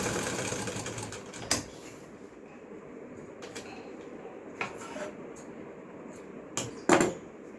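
Sewing machine stitching a salwar, a quiet steady mechanical whir with a few sharp clicks and knocks, heard alone without talk.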